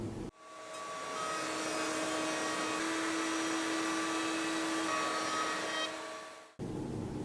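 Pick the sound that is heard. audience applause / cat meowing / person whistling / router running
router running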